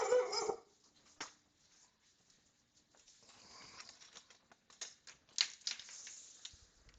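Puppies bark in short, scattered yaps indoors, a few sharp bursts standing out over quieter pattering and scuffling, with no talk.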